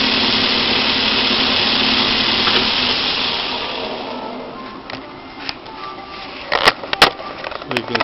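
A Hardinge HSL-59 floor-model super precision speed lathe runs with a steady high whir that gradually fades. It is followed by a few sharp clicks and knocks close by.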